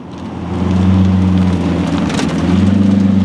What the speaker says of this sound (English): Check out that Monterey blue Murcielago